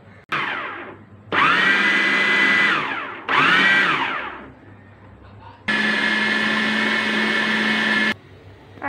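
An electric food chopper whirs through a chicken mixture seasoned with salt and soy sauce in several loud bursts: two short pulses, a third, then one long steady run, each spinning up and winding down, with brief quiet gaps between.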